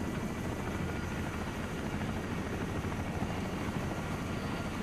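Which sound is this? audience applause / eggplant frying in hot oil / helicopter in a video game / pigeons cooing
helicopter in a video game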